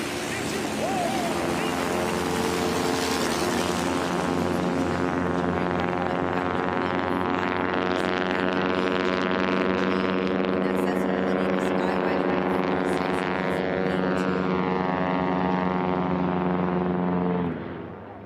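A Carbon Cub and a heavy hauler bush plane roar down the course in a STOL drag race heat, engine drone loud and sustained for the whole stretch, pitch shifting slightly, with an announcer talking over it.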